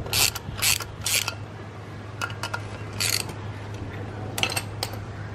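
A bolted spring compressor tool is turned down on an LS engine valve spring, giving a few separate bursts of close metallic ratcheting and clicking over a steady low hum, with no talk.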